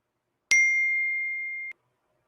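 Phone notification ding, a single bright chime that rings clearly for about a second and stops abruptly, alone in silence.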